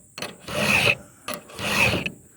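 A hand file rasps across a chainsaw tooth during sharpening in two close, even strokes, each a gritty scraping push separated by a short pause.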